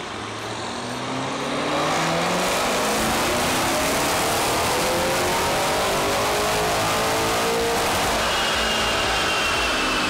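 Tuned Lamborghini Urus on a dyno, its engine climbing from a low idle into a loud, sustained full-throttle rev that rises steadily in pitch, close and overpowering.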